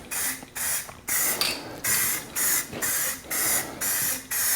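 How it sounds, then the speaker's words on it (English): Fusion spray paint hisses onto a thin 8-inch PVC tube in about eight short, evenly spaced bursts, each a close, sharp aerosol spray separated by brief pauses. "this Fusion paint is a lot stronger smelling than normal spray paint"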